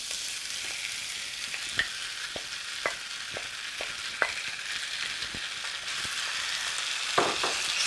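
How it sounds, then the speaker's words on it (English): Potatoes coated in spices and black salt fry in a pan for sabudana khichdi, a steady hissing sizzle broken by sporadic sharp taps and scrapes of a stirring spoon, close and without speech. "just stir this until the potatoes are coated in the spices"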